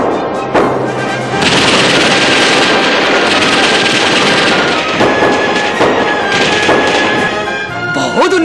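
Military night firing training with sustained loud rapid gunfire, dense overlapping bursts and reports filling the whole stretch, close and relentless with only brief dips.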